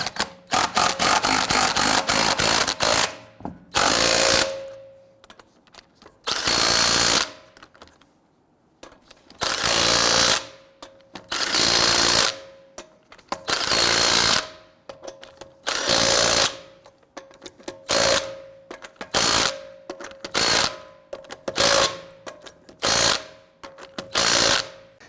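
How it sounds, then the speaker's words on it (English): Wheel lug nuts on a 2008-2017 Buick Enclave being tightened with a power tool: loud, sharp bursts of rattling hammering, repeated many times with short pauses between them. "Ideally, you want to go ahead and tighten these down in a crisscross pattern."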